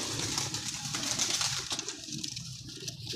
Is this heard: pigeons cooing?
yes